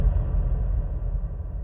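A single kick drum sample with heavy reverb processing swells into a long, deep, rumbling low-end tail that sustains evenly throughout.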